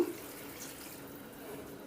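Half a litre of water runs steadily into a curry pot for a couple of seconds, a soft continuous splashing pour heard alone.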